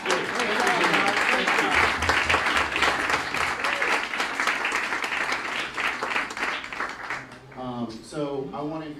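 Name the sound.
audience applause at award ceremony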